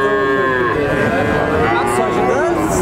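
Heifer calf lowing at a busy calf market in Tangail, a long, loud moo with rising and falling pitch heard close up over steady background crowd chatter and noise.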